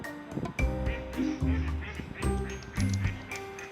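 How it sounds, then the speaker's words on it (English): Ducks quacking in a park, a run of loud, close, raucous quacks coming in bursts with brief pauses between them, no talking. "I always say it sounds like the ducks are laughing when we make that noise"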